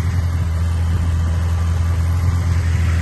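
A 1980 Honda CB650 motorcycle engine runs steadily at idle, a smooth, even low rumble heard close and fairly loud throughout, with no talking.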